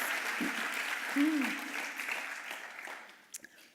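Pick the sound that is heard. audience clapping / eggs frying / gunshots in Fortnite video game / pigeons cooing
audience clapping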